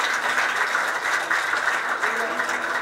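Soft, steady applause from a church congregation, a diffuse patter of many hands held at an even level for a few seconds with no single claps standing out.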